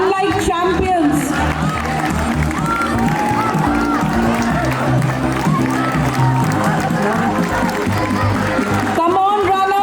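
A crowd cheering and shouting at a school sports day race, a loud, continuous roar of many voices with children's calls on top, while music and an announcer's voice run underneath.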